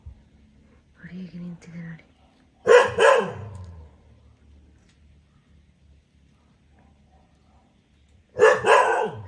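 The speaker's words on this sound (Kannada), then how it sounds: "ಲಕ್ಕಿ ಎಂತ ಬೊಗಳುವಾಗ" A dog lets out two loud, short bursts of barking several seconds apart, with a low murmured voice before the first.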